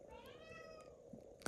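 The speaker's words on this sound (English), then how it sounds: "Pardon my cat, he's just a bastard." A pet cat gives one drawn-out, fairly faint meow with a rising and falling pitch, followed by a short thump.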